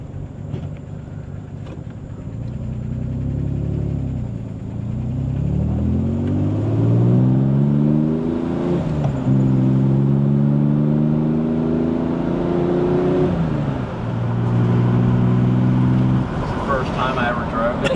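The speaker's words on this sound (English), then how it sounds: "Riding in the 67 Corvair Monza Coupe." A 1967 Chevrolet Corvair Monza coupe's engine heard from inside the moving car, rising and falling through gear changes with a steady droning rumble, while people talk over it.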